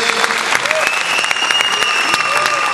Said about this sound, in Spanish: El aplauso bien fuerte